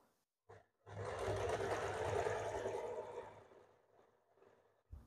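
A sewing machine stitching a double katori blouse, sewn the same way on both sides, runs in a brief start, then a steady whirring stretch of about three seconds that slows and fades, with a short burst at the end.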